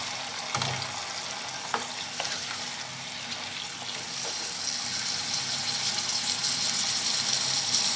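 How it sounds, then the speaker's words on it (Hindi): Chicken frying in a karahi for chicken karahi sizzles loudly and continuously, with a few sharp clinks of stirring, close up and without talk. "मैं चिकन डालूंगी इसमें।"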